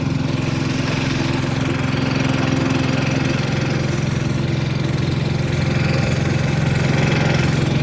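An engine-driven mixer runs at mid-throttle, giving a steady, loud, even engine drone with a low hum and a faint knocking vibration throughout.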